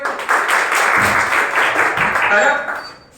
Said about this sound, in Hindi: एक बार और ताली बजाओ भाई